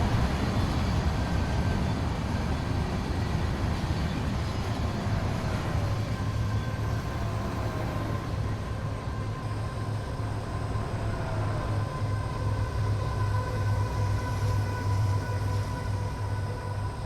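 A train rumbles past in a truck-driving video game, a steady, loud low drone with a faint horn-like tone that holds for the whole stretch, with no talk.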